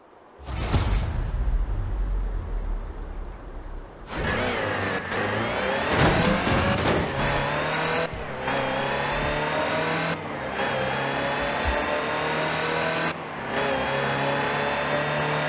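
A Land Rover Type 3 in Forza Horizon 4 drives and revs continuously, its mid-pitched engine rising and falling through gear changes with brief pauses, loud and close with no talking.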